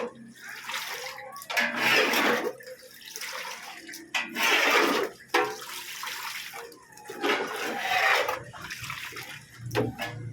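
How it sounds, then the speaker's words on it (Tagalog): Water pours and splashes heavily into a flooded bedroom, coming in uneven bursts of gushing and sloshing, loud and close, with brief quieter gaps between surges. "Ito na lang talaga ang grabing tulo."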